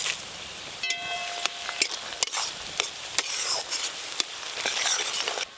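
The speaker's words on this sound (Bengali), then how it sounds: "সব গোটা মশলা দিয়ে পেঁয়াজ আর গোটা মশলা আর একটু ভালো করে নেড়ে নেব" Whole spices, fenugreek and star anise with onion stirred in a hot pan for mutton curry: a steady sizzle under repeated sharp scrapes and clinks of a spoon against the pan, close and fairly loud, with no talking.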